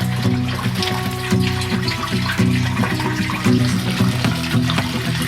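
Wort and water draining from a kettle in a small brew house making Finnish sahti beer, a loud steady gushing pour with rhythmic sloshing pulses, close up and alone.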